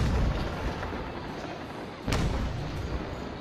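Ship cannons firing in the naval video game Naval Action: a rumbling battle background broken by one sharp, heavy boom about two seconds in.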